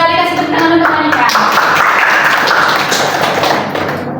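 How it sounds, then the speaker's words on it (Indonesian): Classroom applause for a student, a dense burst of hand clapping from a group that fills the room, tapering slightly toward the end, with a voice briefly heard at the start. "Kasih tepuk tangan untuk Anika"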